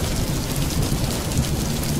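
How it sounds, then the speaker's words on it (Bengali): In a cartoon, heavy rain pours in a dense, steady roar with low thunder rumbling underneath, continuous and fairly loud, with no voices. "কিছুক্ষণ পর শুরু হয় তুমুল বৃষ্টি।"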